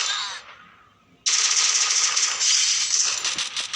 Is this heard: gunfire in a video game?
yes